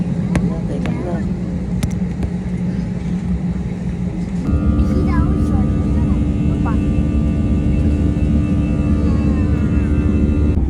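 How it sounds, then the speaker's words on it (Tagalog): Interior of an airplane landing at Narita Airport, with a loud, steady engine roar and rushing air that steps up in pitch and volume midway as the engines surge, under faint cabin voices. "lalapag ng aming eroplano dahil andito na kami sa Narita Airport"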